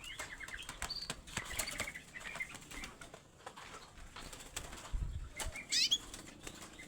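Young local Pacitan oriole beating its wings in short flapping bursts, fairly close, over a steady noisy background with faint chirps and no talking.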